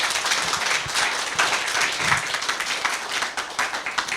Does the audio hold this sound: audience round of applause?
yes